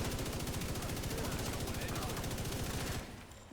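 Light machine gun in The Division 2 video game fires a sustained, loud burst of rapid automatic gunfire for about three seconds, then cuts off into a fading tail.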